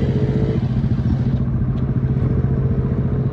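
A Yamaha Mio Sporty motorcycle runs on the Tagum highway, its engine giving a steady close mid-pitched drone with light clatter and no speech.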